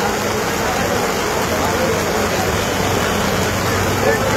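Rain falls at the Jinjira cattle market while cows are being unloaded. It is a loud, steady broadband hiss that carries on without a break.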